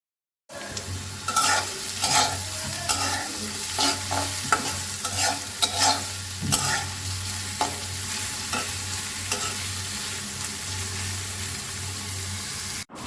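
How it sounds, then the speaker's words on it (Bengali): Chopped onions fry in mustard oil in a wok, giving a steady close sizzle with repeated scraping stirs and a low hum underneath, with no voices. "পেঁয়াজ কুচি দিয়ে দিচ্ছি।"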